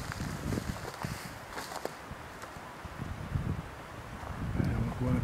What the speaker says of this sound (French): On voit un peu le vent qui souffle un peu plus soutenu, là moins protégé.